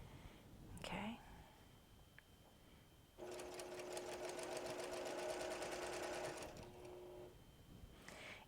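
A sewing machine runs a steady mid-length burst of stitching along a log cabin quilt seam, close and fairly quiet, with soft whispered talk and fabric handling before and after.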